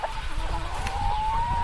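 Farm chickens cluck and call close by, a rising drawn-out hen note standing over busy low rustling and outdoor background noise.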